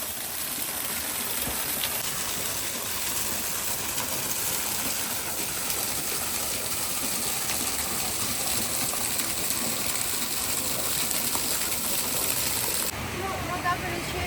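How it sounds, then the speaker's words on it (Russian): Jets of hot spring water pour down a hillside at the Poseidon Gardens thermal park on Ischia, Italy, making a loud, constant rushing hiss that continues unbroken throughout. "Струи горячей воды просто падают с гор."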